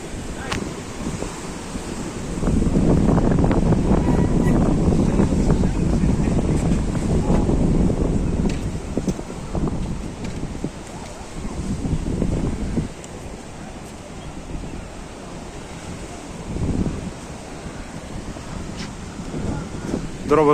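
Storm waves on the Black Sea at Odesa surge and crash over a breakwater while strong wind buffets the microphone, heavy roaring swells rising and falling in long rushes.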